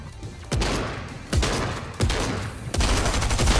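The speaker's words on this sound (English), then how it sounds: "They're shooting nearby." Gunfire in the video game Fortnite: four loud, sharp shots or bursts spaced roughly evenly, each followed by a decaying rumble, with no talk over them.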